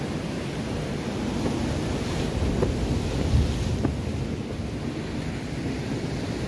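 Steady roar of surf washing onto Manchuria Beach, Gunungkidul, Yogyakarta, broad and continuous, with a few soft thumps as waves break nearby and a faint windy rush.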